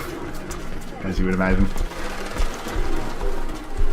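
Pigeons coo in the video game Mirror's Edge Catalyst, with a clear, close cooing call rising over ambient game sound while someone talks.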